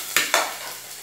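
Chopped onion tipped into a pan with a thin film of olive oil gives two quick bursts of sizzling, then a steady frying hiss that fades a little, close and alone.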